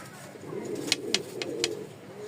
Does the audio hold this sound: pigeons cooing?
yes